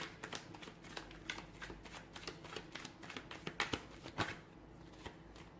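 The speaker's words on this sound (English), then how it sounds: "Give the cards a shuffle and see what is it that's written in your destiny." A deck of tarot cards being shuffled by hand, giving a close, quiet run of crisp riffling bursts and soft flutters in an uneven rhythm, with no talking.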